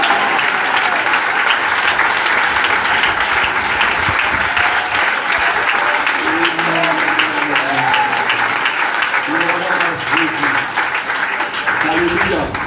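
An audience at a Bible conference applauds steadily and loudly for the whole stretch, a dense continuous clatter of clapping with a faint voice rising over it toward the end.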